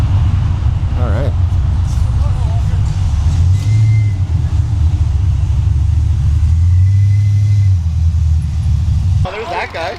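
A Willys jeep fitted with a Chevy engine, driving with a steady low rumbling drone and a couple of rising rev swells, close by throughout with people talking over it.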